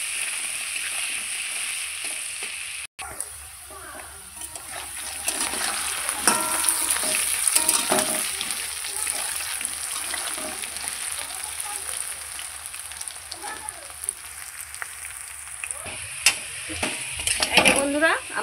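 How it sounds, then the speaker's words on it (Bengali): Potato pieces fry with turmeric in a hot pan, a steady close sizzle with scraping stir strokes and occasional utensil knocks throughout, no talk over it. "আমি এই আলুটা খুব সুন্দর লাল লাল করে ভেজে নেব"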